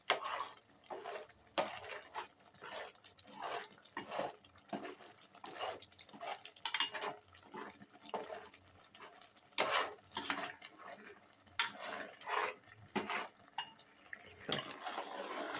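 Semolina being stirred into a cucumber batter in a pot, with a steady rhythm of soft spoon scrapes and thick, wet mixing sounds repeating close by, and no one talking.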